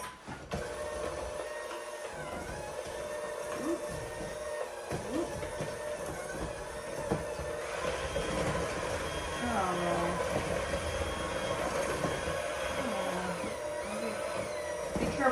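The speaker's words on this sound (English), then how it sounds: "Now we're going to mix all this together with our mixer." An electric hand mixer whirs steadily through chocolate chip cookie dough, a continuous droning motor hum that rises in intensity partway through, with a person talking intermittently over it.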